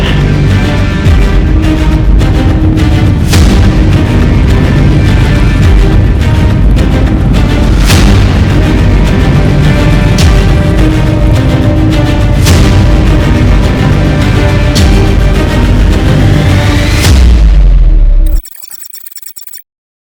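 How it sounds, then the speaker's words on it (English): A rocket lifts off with a loud, sustained rumbling roar that crackles and pops throughout, then abruptly cuts to near silence at the end. "Mission Control, we have liftoff."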